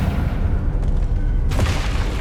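Confringo spell explosion in Hogwarts Legacy, a deep rumbling boom that rolls on, followed by a sharper blast with brighter crackle near the end, loud and without talk.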